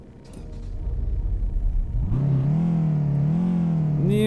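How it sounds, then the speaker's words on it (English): A Toyota Hilux 2016 pickup engine in American Truck Simulator cranks and catches, then settles into a steady idle with slight rises in revs; a close, rumbling start with no talking. "let's start the engine and check it out."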